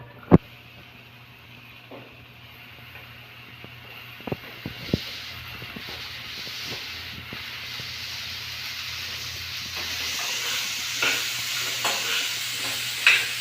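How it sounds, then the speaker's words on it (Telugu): Chopped bottle gourd pieces go into a pan for a yogurt chutney and start frying, a soft hiss and sizzle building steadily louder, with a few sharp clinks of a utensil stirring against the pan. "ఇప్పుడు దీంట్లోకి మనం తరిగి పెట్టుకున్న పొట్లకాయ ముక్కలు దీంట్లో వేసేద్దాం"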